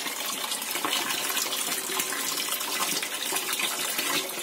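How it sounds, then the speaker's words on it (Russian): Water poured from a 200-litre barrel onto cucumbers growing in a greenhouse, a steady splashing gush that runs without a break, close and fairly loud, with no voices. "Полили огурцы."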